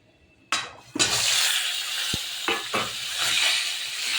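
Hilsa fish dropped into hot mustard oil for shorshe ilish, a sudden loud splash of sizzling that settles into a steady close crackle, with a clink and a few stirring knocks.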